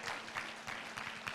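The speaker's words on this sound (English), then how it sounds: "You clap for her, please." Audience at a safe motherhood conference breaks into sustained, fairly steady clapping, a dense patter of many hands held close for its full length with small surges, and no talk over it.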